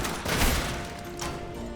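Gunfire in the online shooter Grave/Digger, a dense, continuous rattle of shots layered with distant battle noise, moderately loud with no talk over it.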